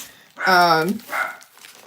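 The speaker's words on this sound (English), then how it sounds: "there's no stopping them barking" Pet dogs barking excitedly indoors in a short harmonic outburst followed by a softer second bark, moderately near, with household talk around them.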